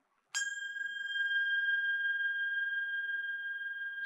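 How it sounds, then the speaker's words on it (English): Pure bell metal kartals struck once, giving a bright metallic strike followed by a long, steady, pure ringing tone that sustains without fading for several seconds, heard alone and fairly close. "what he has is pure bell metal cartels."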